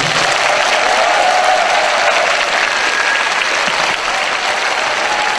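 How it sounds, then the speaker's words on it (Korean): Loud, sustained applause from a large audience at a Korean talk event, dense steady clapping running unbroken from start to finish with a faint murmur of crowd underneath. "큰 박수 부탁드립니다"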